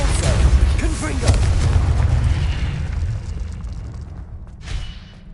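Fiery blast spell going off in the Hogwarts Legacy wizarding game, with a loud booming burst up front, a rumbling tail, and a second smaller pop near the end.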